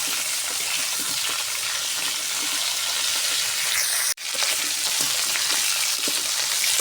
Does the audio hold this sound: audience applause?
no